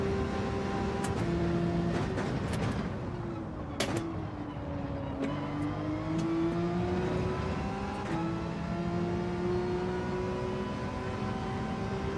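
A Porsche race car in Gran Turismo 7 holds a steady, high-pitched engine whine, with pitch dipping and climbing through gear changes and throttle lifts, close and continuous with no voices.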